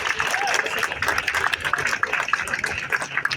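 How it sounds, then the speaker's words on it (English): An audience applauds at a transit event marking the final retirement of a light rail car, with scattered clapping and crowd noise at moderate loudness under a noisy room. "that's a big round of applause"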